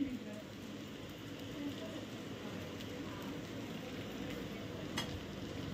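Dahi dhapate, a mixed-flour flatbread, sizzles softly in a little oil on a pan, giving a steady, faint frying crackle throughout.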